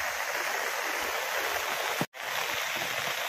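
Floodwater from a river swollen by heavy rain rushes in a continuous, loud broadband roar that stays steady throughout, broken only by one brief dropout near the middle.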